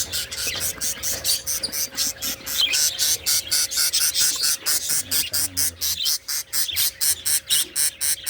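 Dense, rapid chirping from many small birds, a constant pulsing twitter close by, with a faint hum underneath.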